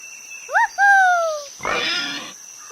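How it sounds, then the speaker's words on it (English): A pig on a farm oinks: a pair of short squeaky rising calls, then a longer squeal, followed by a rough, breathy grunting snort, all heard alone against a thin steady background tone. "Pig."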